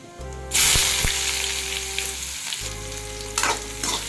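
Chopped onions sautéing in hot oil with mustard seeds and urad dal for a broad bean stir-fry, a loud, steady sizzle with stirring scrapes and a low hum underneath.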